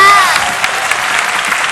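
Audience applause at a live singing competition audition, a dense wash of clapping from a crowd, fairly loud and continuous.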